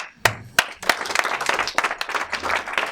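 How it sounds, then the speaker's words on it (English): After a hackathon pitch, a small audience starts clapping with a few sharp separate claps that quickly build into a ragged, moderately loud round of applause. "a round of applause"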